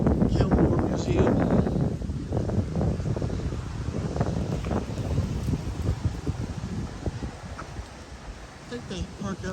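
Strong wind buffeting a microphone outdoors at the Gilmore Museum among parked Model A cars, a steady rumbling roar that stays loud for the whole stretch with faint rustling on top.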